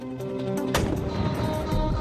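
A single loud cannon blast firing a cannonball, a sharp boom partway through followed by a rumbling tail over a low drone.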